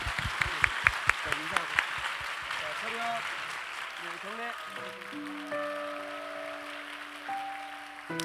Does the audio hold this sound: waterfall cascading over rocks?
no